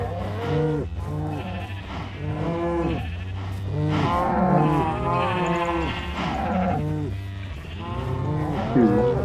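Cows and sheep crowd a Minecraft farm, their repeated moos and bleats overlapping in a steady, busy chorus that stays close and loud throughout.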